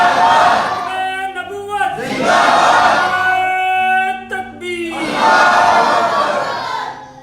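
A large crowd at an Islamic religious gathering shouts a takbir slogan back in response, three loud swelling collective roars separated by short pauses.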